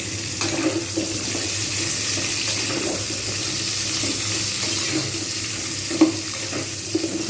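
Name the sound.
frying pointed gourd (potol) covered with lid on medium heat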